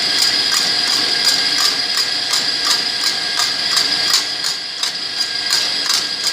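An electric mixer whipping egg whites until frothy for banana pudding, a loud, steady whirring drone with a regular rhythmic beating running continuously, close and alone without talk.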